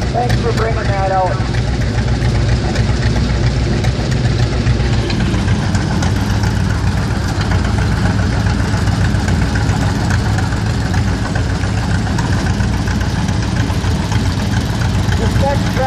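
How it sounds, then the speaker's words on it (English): A 1952 Ford 810 tractor pulling a brush hog at a vintage tractor parade, its engine idling in a steady low chugging rumble throughout while a voice talks over it. "This next tractor is Russell Isola on a 1952 Ford 810 with a house brush hog behind it."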